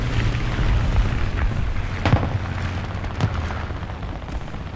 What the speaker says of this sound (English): He's dropping baby bombs.